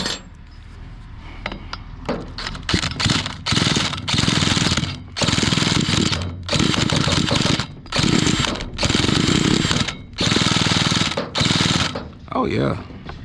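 Stihl FS45 weed trimmer engine firing and revving in repeated loud bursts with short gaps between, close up, with a few rattling starts at first.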